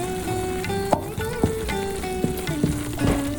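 Magas mixture of gram flour roasting in ghee over medium-low heat, a steady close sizzle broken by several sharp scrapes and knocks of a spoon stirring against the pan, with no voices.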